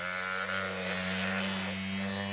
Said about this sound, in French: ventilateur, vous mettez des piles juste là et vous avez la petite ventilation